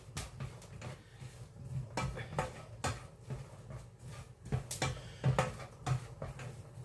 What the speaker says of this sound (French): On torréfie nos noix. Délicatement, donc dans une poêle très chaude.